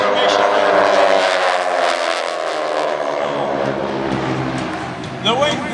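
Aeroshell aerobatic team airplanes rumble overhead at the 2014 Vectren-Dayton Air Show, a loud, continuous droning of several piston engines.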